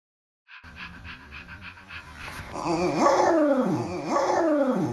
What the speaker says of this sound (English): is that a growl I'm hearing?